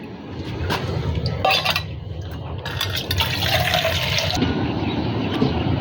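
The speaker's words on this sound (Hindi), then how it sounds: "अब बड़े पौधों को भी पानी दे दें" Water poured and splashing while watering large potted plants, a steady running, gurgling flow with occasional light clinks of a container, close and continuous throughout.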